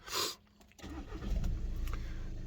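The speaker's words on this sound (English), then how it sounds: "I'm just going to come around and start the engine" A VW Golf mk6 engine cranks briefly and catches, then settles into a steady, close idle that runs alone to the end.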